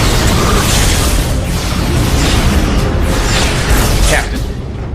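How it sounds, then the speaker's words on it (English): Space battle weapons fire, photon torpedoes and phase cannons against Romulan ships: a dense, loud wall of booming blasts and whooshing energy bursts that runs unbroken for several seconds before easing slightly. "Open fire! Photonic torpedoes and phase cannons."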